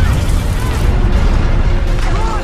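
A military base explodes in a film scene, a sustained loud rumbling blast with low booming roar throughout and sharp crackling bursts layered on top, with no pause for the full length.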